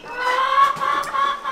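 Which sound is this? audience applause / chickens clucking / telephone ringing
chickens clucking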